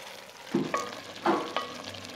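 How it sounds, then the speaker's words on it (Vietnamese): Chicken pieces stir-fried in tomato sauce in a pan give a soft, steady sizzle, with several scraping stirs of a spatula at irregular intervals, close and moderately quiet with no voices. "Xào thêm 5 phút nữa cho phần thịt gà thấm sốt."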